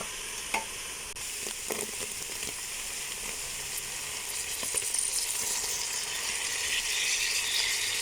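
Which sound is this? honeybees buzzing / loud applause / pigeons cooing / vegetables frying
vegetables frying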